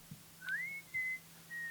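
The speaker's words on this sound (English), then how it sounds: "And that's my dad whistling," A man whistles a few sustained, clear notes with a rising slide into the first, sounding faint and thin like an old recording, with a low steady hum underneath.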